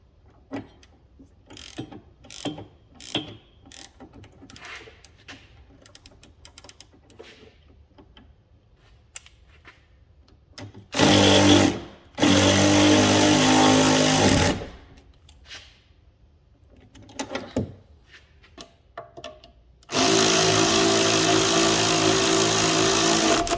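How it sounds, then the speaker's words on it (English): A ratchet tightens the anti-roll bar links on an Alfa Romeo GTA: scattered quick clicking strokes at first, then loud, dense bursts of ratcheting near the middle and again at the end, with no talking. "And now we just need to tighten up the anti-roll bar links."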